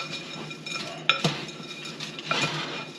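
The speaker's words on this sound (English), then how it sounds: "I'm just going to give it a quick stir to kind of spread the nuts with the noodles." A utensil stirs chocolate-coated noodles and nuts for haystack cookies in a bowl, giving several close, sharp clinks and scraping taps against the bowl's side, spaced irregularly with quiet between them.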